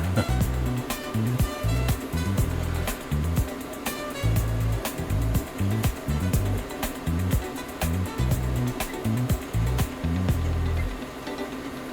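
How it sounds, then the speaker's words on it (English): A 3D printer printing Mewtwo figures nearby, its motors whirring and stepping in a choppy, repeating pattern of short mechanical bursts with faint clicks. "some Mewtwo's in the background printing."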